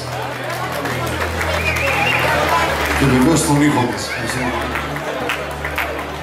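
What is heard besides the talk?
audience applause at a Pontic festival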